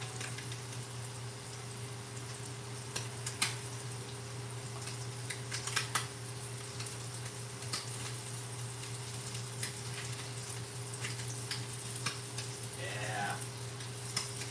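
Food searing in a hot pan while a home cook preps meals, a low steady sizzle under a constant hum, with scattered clicks and taps and a brief spoken word.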